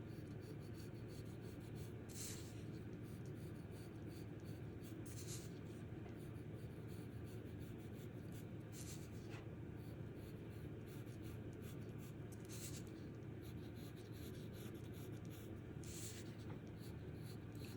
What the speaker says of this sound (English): I'm going to start right here with a graphite line using my pencil on the side